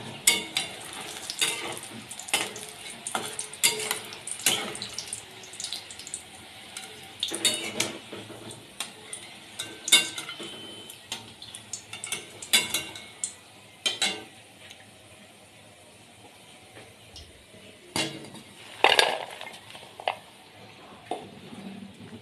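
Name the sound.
deep frying khasta madan bhaja pastries in a pan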